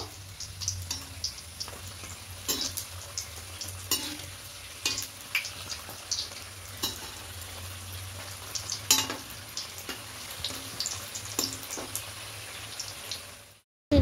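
After being gently flipped, leftover-roti singaras keep frying in oil with a constant close sizzle and irregular crackling pops, ending in abrupt silence.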